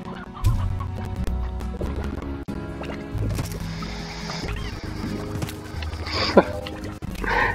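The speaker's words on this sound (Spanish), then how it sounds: "me vacío de pollitos y gallinas" Chickens and hens cluck in the video game Slime Rancher, with busy overlapping clucks and chirps over a steady game background, plus a few brief louder calls near the end.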